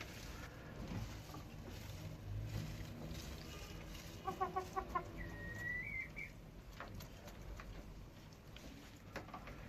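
Ameraucana hens cluck in a brief quick burst of four or five notes, followed by a rising call, faint over a steady low background hum.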